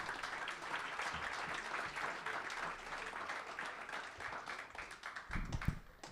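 A small comedy club crowd claps continuously at a moderate, fairly distant level, with a few louder claps near the end.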